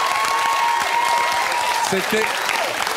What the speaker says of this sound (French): Alors vous pouvez l'applaudir